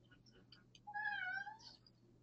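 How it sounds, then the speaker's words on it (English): A pet cat gives one drawn-out meow in the background of a classroom session, faint and somewhat distant against a low steady hum, with no talking during it. "that was my cat in the background."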